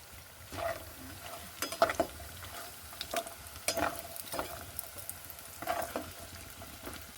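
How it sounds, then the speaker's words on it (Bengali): Lentil dumplings (dal bori) fry in hot oil with a soft, continuous sizzle, broken by scattered spoon scrapes and light knocks against the pan, fairly quiet and without speech. "ডালের বড়িটা ভাজা হয়ে গেছে"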